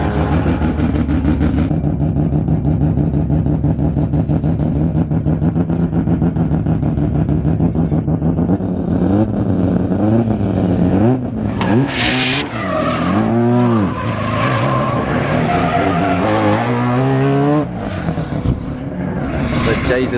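A drift car at a grassroots drifting event roars past with its engine revving hard and tires squealing and skidding in long wavering screeches, loud and close for most of the run.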